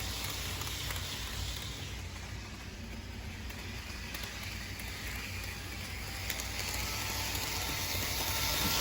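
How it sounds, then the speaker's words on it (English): HO scale model train running on its track, giving a quiet, steady mechanical whir with fine ratcheting, gear-like clicking and no talk. "So let's see if the train wants to run with it today."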